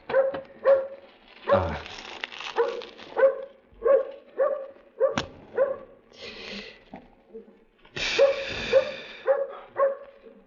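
A dog barks repeatedly in short bursts, fairly close, with a few whimpering yips mixed in and brief pauses between barks.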